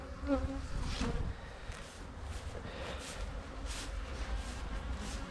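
Honeybees buzzing around a row of beehives outdoors, a steady, fairly faint drone with a few individual bees passing close by, under low background rumble.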